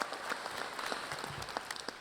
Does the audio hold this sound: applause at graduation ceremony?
yes